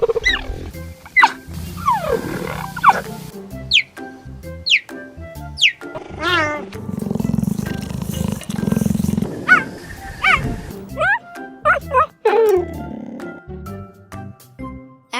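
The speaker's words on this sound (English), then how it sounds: "cheetahs don't roar, but they do make other noises" Cheetah calls, not roars: repeated chirps and yelps rising and falling, interspersed with low purring or growling rumbles, close and clear with varied rhythm over about fifteen seconds.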